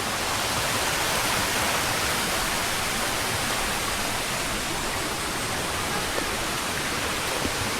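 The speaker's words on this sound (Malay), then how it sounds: "Mana? Situ air terjun." A waterfall on the Gunung Nuang trail roars as a dense, steady rush of water that fills the whole clip at an even, fairly loud level, with no voices.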